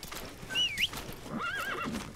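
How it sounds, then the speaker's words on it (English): A horse in Metal Gear Solid V: The Phantom Pain gives a short high whinny followed by a second neigh, with light clip-clop hoofbeats underneath, close and clear, no talk. "Let me call my horse."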